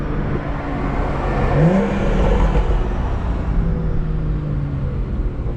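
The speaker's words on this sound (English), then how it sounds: "these downpipes make our car sound crazy" A BMW with aftermarket downpipes rumbles steadily with a deep, throaty exhaust drone, revving slightly as it idles or moves slowly nearby at night.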